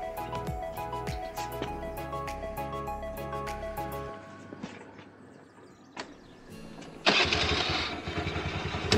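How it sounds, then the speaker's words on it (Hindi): Scooter engine cranking and catching, preceded by mechanical clatter and clicks, then settling into a loud, buzzing, steady run near the end, with no speech over it. "चलो यार फिर स्कूटर पे चलते हैं।"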